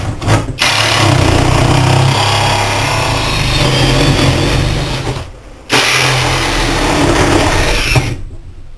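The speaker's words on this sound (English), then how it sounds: "I'm going to get out the old Sawzall." A Sawzall reciprocating saw cuts loudly and steadily up close while an interior is being dismantled, running in two long bursts separated by a brief pause and cutting off near the end.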